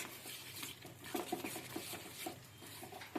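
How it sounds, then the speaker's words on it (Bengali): Soaked bread mashed by hand with a splash of water, giving soft wet squelching and patting sounds in an irregular rhythm, close and fairly quiet. "এবার একটু জল মেশাবো খুব বেশি না অল্প একটু দেখ খুব ভালো করে ঘেটে নিচ্ছি"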